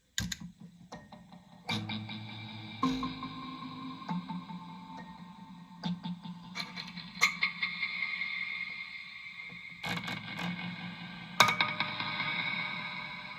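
A DIY piezo noisebox played through delay and reverb gives plucked, clicking hits that smear into long, shimmering echoing tones, with sharp new attacks every few seconds over a sustained washy drone.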